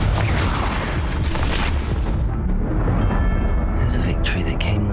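Fire spell blasts in Hogwarts Legacy erupt as a dense, roaring burst that thins out into crackling, with a voice shouting the spell over the noise.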